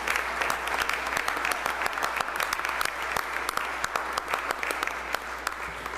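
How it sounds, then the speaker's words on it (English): Sustained applause from a large crowd in a state House of Representatives chamber, dense steady clapping at close range with no talking. "So let's all give them a big round of applause."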